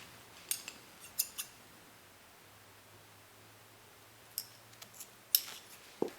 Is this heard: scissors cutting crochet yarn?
yes